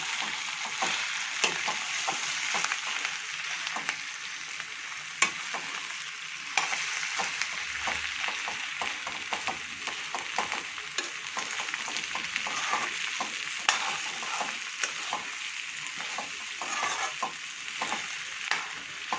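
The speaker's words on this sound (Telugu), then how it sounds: "మళ్ళీ ఒకసారి మనం మొత్తం బాగా కలిపేద్దాం." A spoon stirs aloo bonda mixture in a hot pan, a steady scraping and shuffling over a continuous sizzle of frying, close and without talk.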